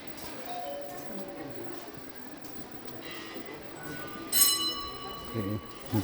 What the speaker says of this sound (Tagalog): Sari-saring doorbell.